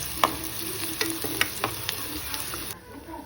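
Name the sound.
garlic added to frying onion and cumin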